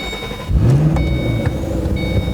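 A 2007 Shelby GT500 engine revs up loudly and holds a deep, throaty rumble, close and steady with slight rises in pitch.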